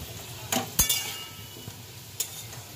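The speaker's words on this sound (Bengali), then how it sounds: "প্রথমে লাল করে আলুটা ভেজে নিতে হবে।" Potatoes fry in mustard oil in a wok for a prawn curry, giving a low sizzle broken by a few sharp clinks and scrapes of a metal spatula.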